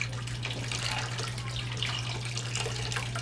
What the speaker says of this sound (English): you want to keep draining off the whey until the curds are really pretty dry